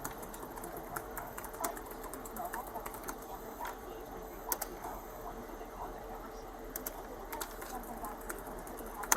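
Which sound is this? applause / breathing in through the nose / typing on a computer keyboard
typing on a computer keyboard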